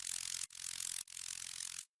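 Crunchy noise with erosion over a low-pitched sine wave, an electronic sound effect: three bursts of bright gritty hiss separated by short gaps, quiet, ending in silence with a low thump.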